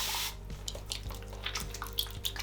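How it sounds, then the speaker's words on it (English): Water runs from a tap and drips while hair gel is mixed with it in the hands, quiet trickles and small splashes following a brief louder rush at the start. "I'm just gonna mix a bit of gel in my hands with some water"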